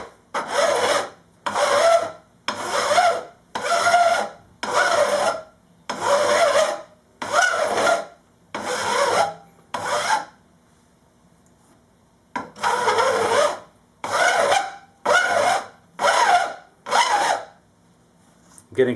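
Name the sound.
file filing guitar frets during refret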